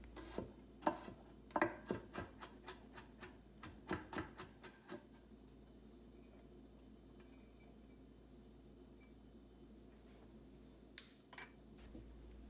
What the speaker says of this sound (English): Next, I'll mince some fresh garlic.